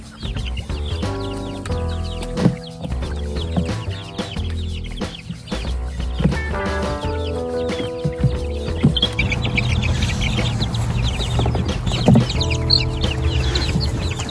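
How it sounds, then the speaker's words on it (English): Rhode Island Red chicks cluck and chatter continuously nearby, a busy, overlapping flock sound with no talking. "That's our Rhode Island Red chicks."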